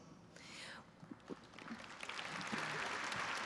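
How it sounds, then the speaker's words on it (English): An audience at a law school commencement ceremony breaks into clapping that starts softly and swells into steady, fairly distant applause, with a few stray voices near the start. "Well, you can clap"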